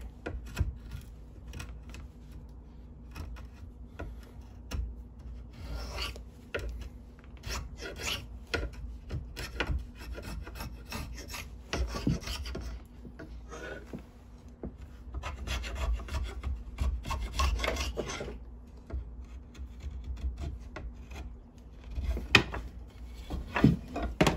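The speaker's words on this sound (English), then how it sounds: "I'm gonna sand the rest of that." Rough, continuous rasping strokes on a wooden handle for a single-bit Craftsman axe, close and steady in repeated bursts, with occasional knocks and no speech.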